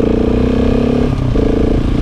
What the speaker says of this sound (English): This is probably the most powerful bike I've ridden, and definitely the most powerful bike I own.